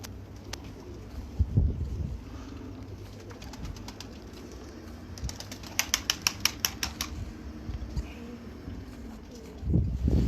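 Pigeons coo softly in the background, with a burst of sharp rhythmic clicks partway through and low rumbling thumps near the start and end.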